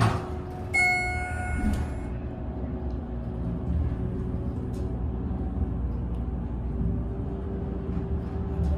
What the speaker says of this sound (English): Let's hear the motor.